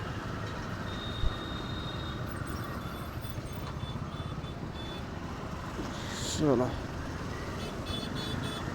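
A Saturday traffic jam on a city road: a steady engine rumble with short, thin car horn toots at a moderate distance, and a person speaking over the traffic noise.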